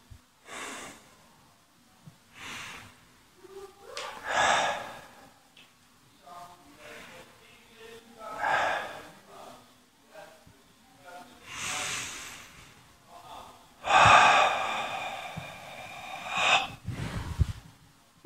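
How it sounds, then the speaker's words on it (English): Breathing exercise closing a beginners' karate home-study class: a series of slow, deep, hissing inhales and forceful exhales, repeated roughly every few seconds, close and fairly loud. "So let's finish with breathing"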